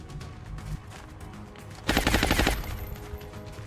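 Pistol gunfire in the video game XCOM Long War: a fast, loud burst of rapid shots lasting about half a second, standing out clearly over a steady game background.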